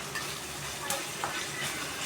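Oil sizzling steadily in a pan for a mushroom and chickpea dish, a moderate even hiss with a few light stirring ticks, close by and with no one talking.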